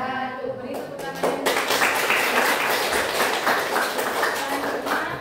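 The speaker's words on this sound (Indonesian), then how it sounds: "Beri tepuk tangan." Audience applause at an Indonesian group presentation session, breaking out after a short lull and holding as dense, steady clapping from many hands, fairly loud and close, with some voices underneath.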